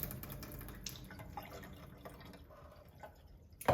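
Canned green beans being rinsed with tap water poured into the can, with soft dripping and sloshing of liquid that runs steadily and close by, then ends in a brief louder splash.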